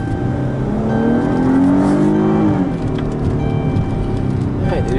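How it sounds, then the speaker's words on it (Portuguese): Chrysler 300C John Varvatos special edition's 3.6L 24-valve V6 revving loudly and steadily close by, the engine note rising and falling while its idle stays high, with a voice speaking briefly over it. "o motor fica acelerado mesmo depois de eu tirar o pé do acelerador"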